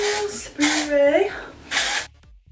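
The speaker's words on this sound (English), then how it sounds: "So the first thing I do is take my dry shampoo." Several short bursts of dry shampoo aerosol spray hiss close by onto hair, separated by brief pauses, with a breathy sound between them.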